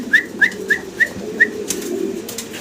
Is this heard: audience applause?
no